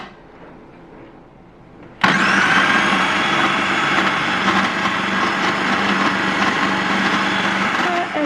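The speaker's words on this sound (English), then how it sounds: "egg yolks, we're going to mix them now for a few minutes" Eggs yolks for a no-bake iceberg cake being beaten by an electric mixer: quiet room, then the motor switches on abruptly into a loud, steady high whirring hum that runs on to the end.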